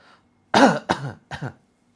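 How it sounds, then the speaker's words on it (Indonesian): Three short, light coughs in quick succession, close by, with silence around them. "Tiupkan, tarik atas, batuk-batukan ringan."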